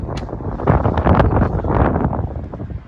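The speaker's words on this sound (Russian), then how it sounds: "ветер-то в суше" Wind blowing from land along the Anapa seafront on a cold day, a steady loud rushing buffet across the microphone that continues without a break.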